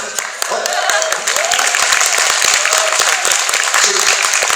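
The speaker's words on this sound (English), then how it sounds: "If I keep getting applause breaks, I only have to talk for about 48 minutes or so." Convention panel audience at a Transformers Q&A bursting into sustained applause, dense steady clapping filling the room for several seconds with scattered voices and cheers mixed in.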